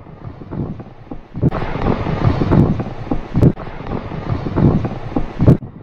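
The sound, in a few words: wind blowing outdoors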